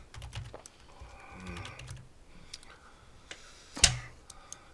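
Quick bursts of typing on a computer keyboard, close and crisp, with a pause in the middle and one louder clack near the end, no talking.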